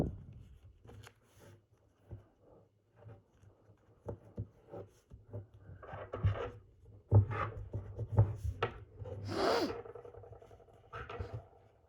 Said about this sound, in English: go ahead and fold the flaps behind again